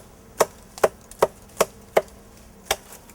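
A blade cuts through a thick English ivy vine growing on a tree, making six sharp, close chopping strikes at a fairly steady pace with a short gap before the last one.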